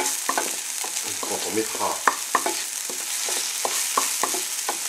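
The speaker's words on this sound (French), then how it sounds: "faire revenir ces oignons et cette ail juste comme il faut." Onions and garlic frying in a pan, a continuous sizzle broken by repeated scraping stirs and clacks of the utensil, close and fairly loud, with a brief spoken phrase at the start.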